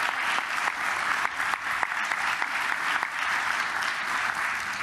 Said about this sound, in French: Effectivement, ils vont à nouveau t'applaudir.